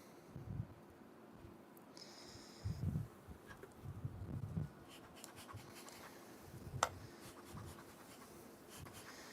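Honeybees working an open beehive during a frame inspection give a soft, steady buzzing hum close by, broken by a few louder swells as bees fly past and faint rustling of handling.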